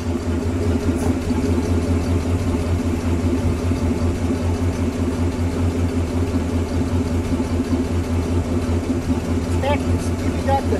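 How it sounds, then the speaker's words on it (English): A 1966 Ford Fairlane GTA convertible with a 390 engine and factory mufflers idles, giving a steady, quiet low rumble that holds even throughout with no revs. "let me listen to it idle"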